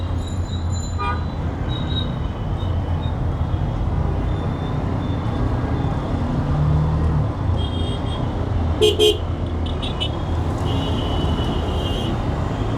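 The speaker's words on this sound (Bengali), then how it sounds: "ও বাবা গো এত বড় জ্যাম কিসের" Cars and buses stand in a heavy Dhaka traffic jam: a constant loud roadway rumble, with short car horn toots near the start and a cluster of honks later on.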